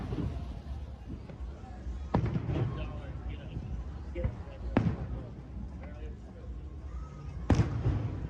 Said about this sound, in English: So we get a treat of watching some fireworks.